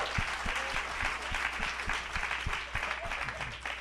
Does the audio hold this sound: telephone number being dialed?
no